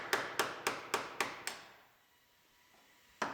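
Six sharp metallic hammer blows knocking the heads off aluminum rivets on a 2017 GMC Terrain Denali, in a quick, even rhythm, then a pause and one more strike; close and loud with no talking.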